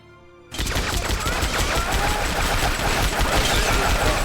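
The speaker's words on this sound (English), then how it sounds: "Gunfire." Dense, continuous gunfire from Valkyria Revolution, a video game, bursting in abruptly after a brief quiet moment and keeping up a loud, busy crackle of overlapping shots for the rest of the stretch.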